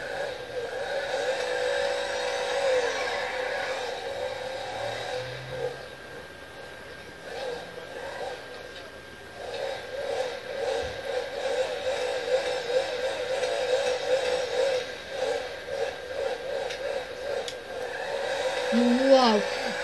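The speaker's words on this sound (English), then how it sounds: "I'm gonna rev it up." Engine of a Safista Comet car in a video game revving, a sustained whirring drone rising and falling in pitch with repeated revs, with a person talking over parts of it.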